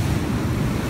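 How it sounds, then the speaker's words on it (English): Big ocean waves at a surf beach, a continuous loud roaring wash of breaking water with heavy wind buffeting the microphone, close and unbroken, no voices. "These waves are gonna trash me."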